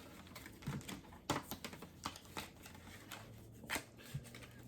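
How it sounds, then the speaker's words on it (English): A deck of tarot cards being shuffled by hand, soft irregular riffling and tapping bursts close up and fairly quiet, with no voice over them. "Shuffle this one more time."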